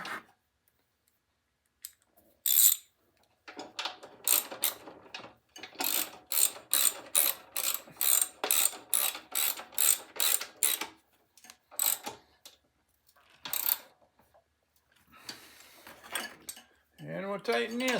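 A ratchet tightens a bolt on a Snapper 33-inch mower drive train, a long series of quick close clicking strokes in bursts, separated by quiet pauses and a few metallic taps.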